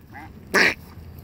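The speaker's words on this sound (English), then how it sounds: "What's with the duck, huh?" A single loud, short duck quack close by at an indoor aquarium, a harsh burst standing out clearly after a brief faint sound before it.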